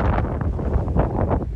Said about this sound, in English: Very heavy, windy and cloudy at the moment.